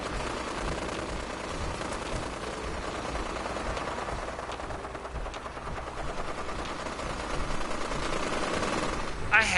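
Steady machine-gun fire in a Fallout game, shooting at a rad scorpion: a continuous rattling stream of shots under a noisy backdrop, with a person talking over it.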